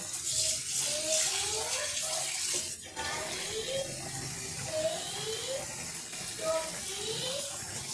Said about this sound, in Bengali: আমি এরপর আরেকবার এই শাকটাকে ভালোভাবে জল দিয়ে ধুয়ে নিচ্ছি।